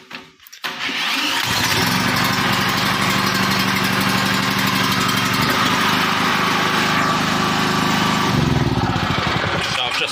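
Small portable generator engine starting up after a brief quiet moment, then running steadily and loudly close by with a constant buzzing drone for the rest of the clip.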